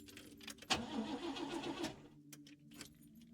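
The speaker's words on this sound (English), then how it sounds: "We start the car?" Car engine starting in the video game Lorelei and the Laser Eyes: a jangle of keys, then a sharp crank that catches into a brief rough run before dying away, with scattered clicks after; no voices.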